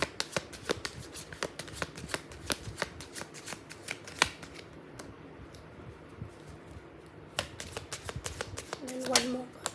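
Tarot cards are shuffled and drawn in a run of quick, crisp riffles and flicks, close and fairly quiet, while a voice speaks softly in the background.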